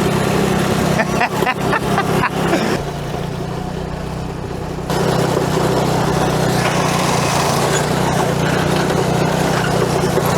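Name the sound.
go-kart engine during top speed run uphill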